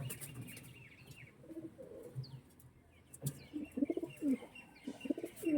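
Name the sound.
magnet breed pigeons cooing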